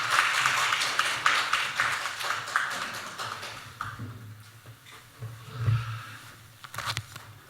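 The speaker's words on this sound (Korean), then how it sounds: "우리 주님께 다시 한번 감사와 영광의 박수 올려드립니다" A church congregation applauds at a Friday prayer meeting, with a burst of dense, close clapping that thins out and fades into scattered taps and quiet rustling.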